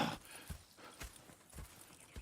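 Horses walking in the video game Red Dead Redemption 2, their hooves clip-clopping in a soft, irregular rhythm of several low thuds, fairly faint and close, with no talk over them.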